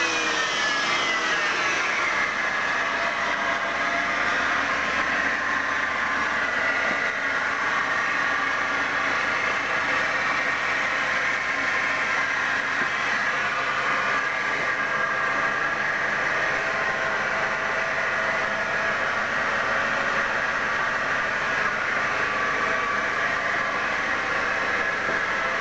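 A Peugeot car engine is held at high revs while being checked for an abnormal noise around the engine, a loud, steady, sustained roar with a whining tone running close and continuously for the whole stretch, no voices over it.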